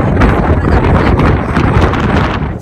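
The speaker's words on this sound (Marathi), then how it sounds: "एवढी हवा येते ना" Strong wind on the open deck of the MSC World Europa cruise ship in Qatar, a loud, steady buffeting roar against the microphone that continues without a break.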